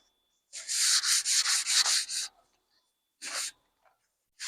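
Sandpaper rubbing along the wooden handle of a fireman's axe to roughen it for oil, a rapid run of about seven close, scratchy strokes, then a pause and one more short stroke.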